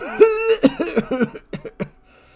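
A voice imitates someone coughing and choking on alcohol: a drawn-out strained hack followed by a rapid run of loud, close, sputtering coughs that die away into quiet.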